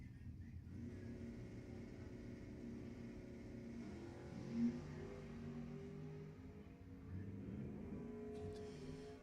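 A Mustang and a rival car run a drag race at Lebanon Valley Dragway, heard as a steady, distant engine roar that swells briefly midway and holds to the end.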